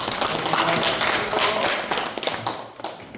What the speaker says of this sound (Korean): 힘차게 유세를 해주신 두 후보조에게 큰 박수 부탁드리겠습니다